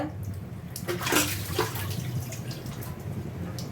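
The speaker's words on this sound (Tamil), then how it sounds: "தண்ணி நல்லா கொதி வர ஸ்டேஜில் இருக்குது" Water bubbles and simmers in a kadai, with small irregular pops and gurgles over a steady low rumble, close by and fairly quiet.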